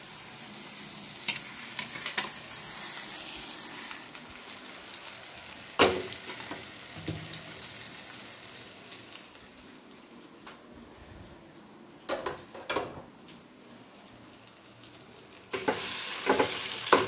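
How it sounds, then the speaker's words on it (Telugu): Dried red chilies, garlic, mustard seeds and cumin crackle and sizzle in hot oil for a tempering, with a steady fry broken by sharp spatters and stirring scrapes, growing louder and busier near the end. "ఎండుమిర్చి, ఎల్లిపాయలు, ఆవాలు, జీలకర్ర వేసినప్పుడు అయితే వేసి చూడండి"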